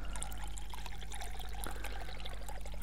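Water poured into pizza dough mix, 250 grams in a steady, faint trickle lasting about three seconds, with a low hum underneath.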